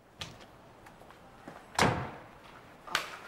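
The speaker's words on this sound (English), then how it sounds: "Close the door behind you when you go." A door thuds shut behind someone walking out, one heavier bang standing out among lighter knocks and bumps, with a final thump near the end.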